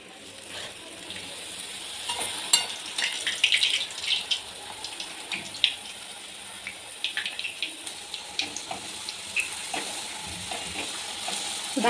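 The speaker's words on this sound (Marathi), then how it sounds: "आता याला मी तेलात तळून घेते।" Papad dropped into hot oil for ragda papad chaat, giving a busy crackling sizzle with scattered pops and bubbling, moderately close and steady across the stretch without speech.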